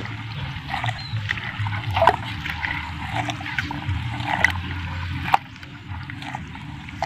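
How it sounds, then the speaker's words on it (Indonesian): Hands squeeze and knead plant material submerged in water while making a botanical pesticide, giving a continuous close sloshing, dribbling, wet squelching sound with occasional louder splashes. "remas-remas seperti ini teman-teman, karena kita akan mengambil airnya saja ya"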